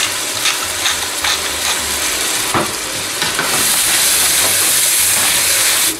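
A pepper mill grinds pepper over zucchini for a green curry velouté, making a close, continuous ratcheting crunch with a steady hiss of grinding throughout.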